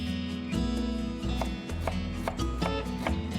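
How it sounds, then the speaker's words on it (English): A knife chops green onions on a cutting board in repeated sharp taps, fairly close, under steady background hum and music-like tones. "Cutting up the green onions."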